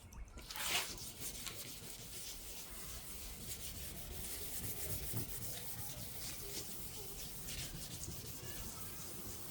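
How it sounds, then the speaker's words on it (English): A car headlight is wet sanded by hand with 800 grit sandpaper, giving a faint, close, continuous rubbing and scratching with a light wet quality. "all of these are gonna be wet sands, so we don't damage the glass"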